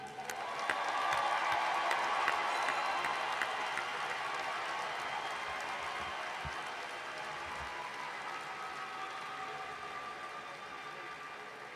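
Audience at a business college spring commencement ceremony applauding the graduating class, sustained dense clapping with some cheers that slowly tapers, large indoor crowd.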